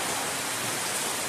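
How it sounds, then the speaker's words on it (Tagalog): Steady rain falls during an outdoor birthday gathering, a dense, even hiss with no breaks and no voices over it. "Hintay lang muna matapos ang ulan."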